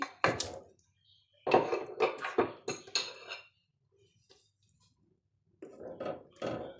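Chicken meat goes into a cooking pot with potatoes in a home kitchen: a few close, separate bursts of clattering and knocking from the pot and utensil, with quiet gaps between them.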